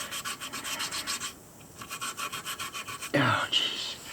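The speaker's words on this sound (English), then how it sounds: "the sanding with the 320 grit wet dry sandpaper is done." A sand dollar is worked by hand on 320 grit wet-dry sandpaper, giving a soft, rhythmic rasping scrape in repeated strokes, with a short pause and a brief louder scrape near the end.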